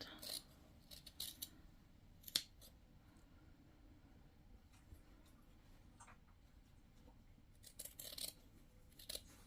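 Scissors snip through fabric for a sewn fabric basket, giving faint, sparse cuts and rasps scattered across a quiet room.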